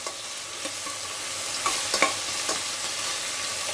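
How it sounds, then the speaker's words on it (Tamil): Onions and curry leaves sauté in a pot for tomato rice, a steady gentle sizzle with a few light scrapes and clinks of a stirring spoon, close by and without speech. "வெங்காயம் நல்லா வதங்கட்டும்."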